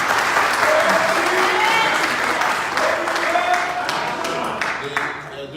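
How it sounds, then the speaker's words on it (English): Sustained crowd applause at a political fundraiser in Chicago, many hands clapping loudly and steadily with faint voices and cheers mixed in. "You have to give them a round of applause."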